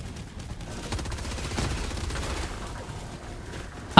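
Rapid automatic fire from the Liberator Carbine rifle in Helldivers 2 crackles in a dense, steady stream of shots, moderately loud and continuous for several seconds, ending in a sharp final burst.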